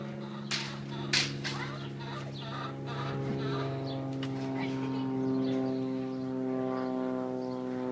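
A broody hen gives a run of low clucks and sharp clicking sounds against a steady droning hum, close by and moderately faint.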